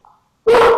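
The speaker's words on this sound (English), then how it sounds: "Who's barking?" A single loud, close dog bark from an Australian Shepherd bursts out alone after a brief faint whine, sharp and full-bodied.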